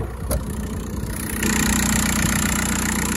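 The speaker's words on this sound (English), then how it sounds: "this little diesel engine. They're a little loud, noisy" A small 1.9-liter VW TDI diesel engine in a Volkswagen Beetle idles nearby with a steady, rattling clatter and a constant low hum, running loud and even throughout.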